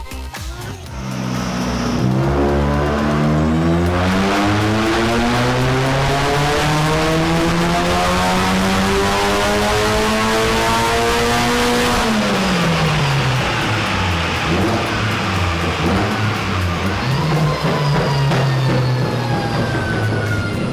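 A supercharged car engine revs hard on a dyno, its pitch climbing steadily to a loud, screaming peak, dropping briefly, then rising and holding at high revs.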